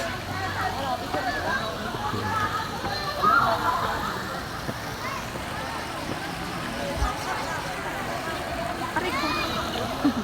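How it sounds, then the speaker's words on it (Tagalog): Water rushes steadily from a waterfall at a resort in Antipolo, a constant broad wash heard throughout while people talk and murmur nearby. "Yun yung falls."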